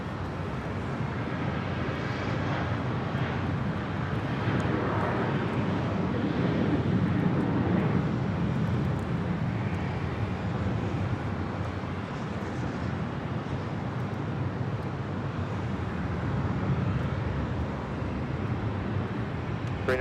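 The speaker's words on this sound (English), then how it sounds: "this MD-11, which is going to about to land here on the north side" An MD-11 airliner on approach to land on the north side at LAX, a steady broadband engine roar at moderate distance that holds fairly even throughout, with no talk.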